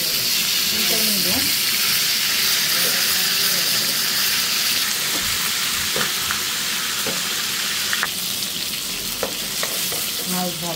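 Fish sizzling in hot oil in a home kitchen, a loud continuous crackle with occasional clinks of a utensil and faint background noises, no talking.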